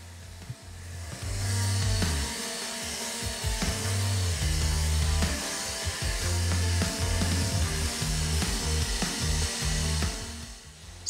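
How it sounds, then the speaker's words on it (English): Sanding a custom guitar body with a power sander working through grits from 120 to 240, a loud steady whirring hum with rhythmic shifts in pitch and pressure, close and alone without talk. "sanding down the entire guitar and working my way up from 120 all the way up to 240"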